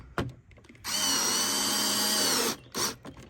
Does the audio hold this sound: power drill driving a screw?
yes